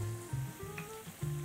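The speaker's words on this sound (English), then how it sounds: "Isn't that a nice sizzle?" Potato latkes fry in hot oil with a quiet crackling sizzle, broken by soft clinks and scrapes of a utensil in the pan. No one speaks.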